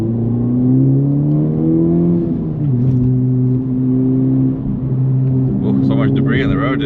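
A Honda Civic Type R FL5 accelerates hard on a mountain road, its engine a loud, steady rising drone close by inside the cabin, with a brief shift dip partway through and a voice speaking near the end.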